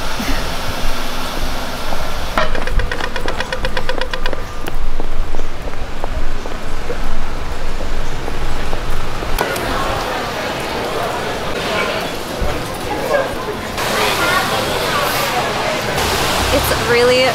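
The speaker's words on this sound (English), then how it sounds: "Really raining hard now." Heavy spring rain pours down on a Surry Hills street in Sydney, a loud, dense, steady hiss close around the listener, with people talking under the downpour.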